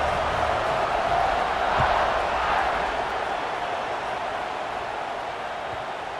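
Big football stadium crowd at a college game, roaring and cheering as the kickoff unit lines up, a broad steady wash of distant voices that fades slightly toward the end.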